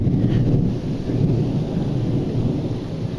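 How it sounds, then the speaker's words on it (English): A thunderstorm with heavy thunder rolls loud and continuous throughout, a deep booming rumble layered over the steady hiss of falling rain, with no voices. "this one's just a thunderstorm with a lot of thunder and lightning"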